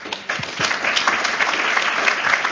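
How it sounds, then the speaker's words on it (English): A meetup audience at an OWASP London security chapter event applauds its speakers. Clapping starts abruptly, then swells into a steady, close burst that lasts a couple of seconds. "a big round of applause to our speakers."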